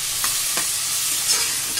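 Onions with a little salt sizzle and fry in a pan for a village-style country chicken curry, with a steady loud hiss and faint scrapes of stirring throughout, no talking.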